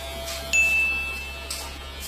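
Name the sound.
electric hair clipper with 1.5 guard cutting hair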